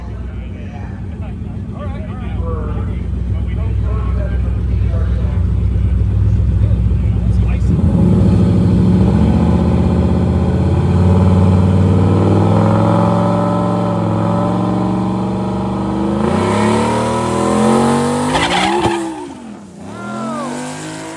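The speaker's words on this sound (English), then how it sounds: "Big burnout for the Mustang boys." A Ford Mustang race car does a big burnout at a drag racing event, its engine revving hard and loud as the tires squeal, with wavering pitch sweeps near the end and people talking over it.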